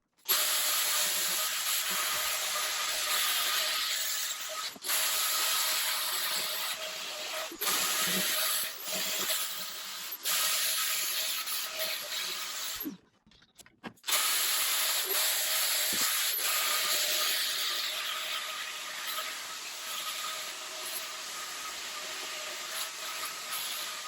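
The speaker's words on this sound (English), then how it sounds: "I have the mini turbo sander that is on here now, 60 grit sandpaper again" Arbortech mini turbo sander with 60 grit paper works the inside of a wooden bowl, a continuous loud abrasive whir and rasp with brief dips where the pad lifts, including one short near-silent gap midway.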